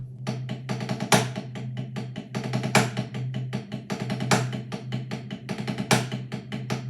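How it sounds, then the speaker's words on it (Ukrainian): A steady drum groove with crisp, rapid hi-hat strokes mixing sixteenths and doubles, and periodic accented crashes over a low bass hum, played continuously at a moderate tempo. "Сьогодні розберемо дуже крутий паттерн, який я часто використовую на хай-хеті при грі."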